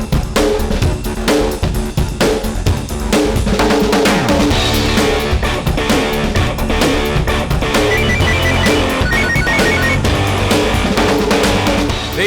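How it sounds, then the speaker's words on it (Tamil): A telephone rings repeatedly as a call is placed, its regular ringing pulses sounding under busy, loud background music that plays throughout. "வா தாஸுக்கு ஃபோன் பண்ணி என்ன செய்யறதுன்னு கேட்போம்."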